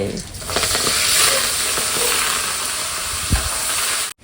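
Mustard seeds, dried chili and garlic frying in hot oil, a steady loud sizzle and hiss with faint stirring scrapes, cutting off abruptly at the end.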